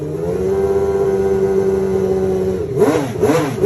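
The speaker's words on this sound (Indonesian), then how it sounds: "suara knalpotnya juga sangat merdu, bahkan dikatakan mirip dengan suara mesin V12 F1" Honda CBX1000 inline six-cylinder motorcycle engine held at a steady high-rpm whine, then blipped in several quick rising revs near the end, loud and close with no talk.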